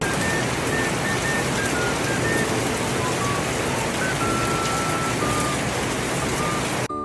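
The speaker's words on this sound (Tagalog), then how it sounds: "Napakalakas talaga ng ulan dito" Steady, dense heavy rain pouring down without a break in Taiwan, a loud continuous hiss with faint tonal beeps drifting through it.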